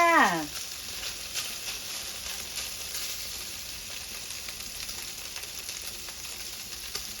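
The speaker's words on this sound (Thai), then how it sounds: "คั่วออกเหลืองๆหน่อยนะมันจะได้หอม" Fermented Thai pork nham, including pork-leg and neck-cut nham, stir-frying in a pan with a steady close sizzle and crackle that runs throughout, alone with no talk.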